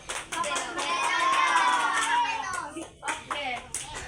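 Schoolchildren clap together in an Indonesian classroom, a dense, fairly close burst of hand claps lasting a few seconds before it breaks into scattered claps and children's voices.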